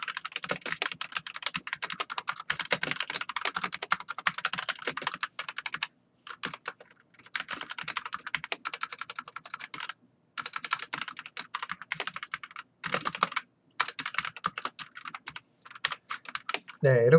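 Rapid keyboard typing clatters steadily for long stretches, broken by a few short pauses, close and clear with no one talking.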